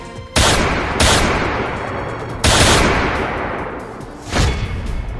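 Four loud gunshots ring out at uneven intervals, each a sharp crack followed by a long, rolling echo.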